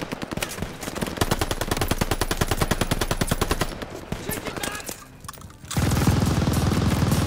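A tower machine gun fires in the video game Call of Duty Vanguard, a long, loud, evenly spaced stream of rapid shots that fades into a brief lull before a dense burst of battle noise, with shouting voices mixed in.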